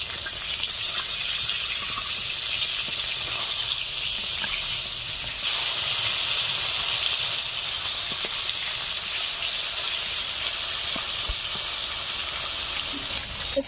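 Pieces of rohu fish sizzling steadily in hot oil in a pan for a kalia curry, a continuous loud bright crackle and hiss with scattered pops, no talking.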